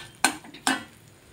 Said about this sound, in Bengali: এই দেখুন ভাজছে, আস্তে আস্তে ভেজে নিতে হবে